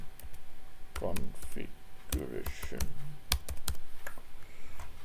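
Typing on a computer keyboard while entering text into a web setup page, close, quick clusters of key clicks in short bursts, with someone talking over them throughout.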